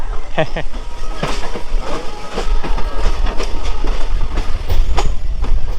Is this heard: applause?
no